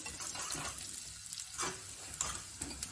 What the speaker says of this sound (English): Now we need to fry these onions till they are